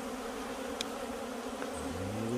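Wild bees in the Jamaican hills give a steady insect buzz throughout, with a low droning hum rising near the end and a few faint higher chirps in the background.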